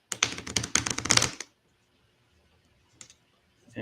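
Two piles of playing cards riffled together at close range, a dense burst of rapid fluttering clicks lasting over a second, then near silence with a couple of faint taps.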